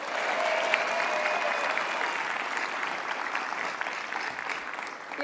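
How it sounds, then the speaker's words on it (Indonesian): Sustained audience applause for a band on an Indonesian TV talk show, a dense, even wash of clapping that holds steady from start to finish with no voices on top. "Kita kasih tepuk tangan sekali lagi dong"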